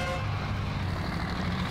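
A truck horn honks in the off-road driving game SnowRunner, a steady low tonal blare held through the moment over engine rumble, set during a log-hauling contract in Yukon, Canada.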